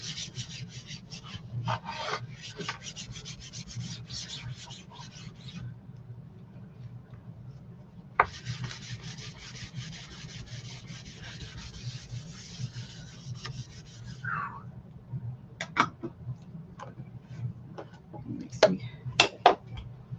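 Chalk paste being buffed by hand into a 12x18 wooden garden flag produces a dry, rhythmic rubbing rasp in two long stretches, with a few sharp taps and light scrapes toward the end.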